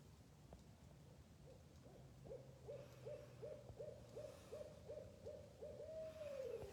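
Owls hooting in a steady series of about a dozen evenly spaced hoots, moderately close and clear over a low background hum, during a live program.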